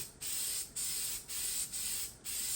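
Spray paint hissing onto front wheel tubs of a Bullnose truck, in four or five steady bursts with short pauses between, close and fairly loud.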